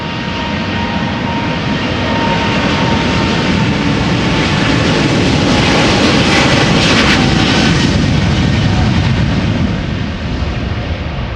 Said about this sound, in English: if you listen to the violent noise that those engines make